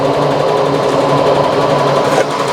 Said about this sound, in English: I'm going to go ahead and point the extractor to me so you guys can hear the air that it's sucking out